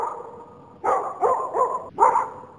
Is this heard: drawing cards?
no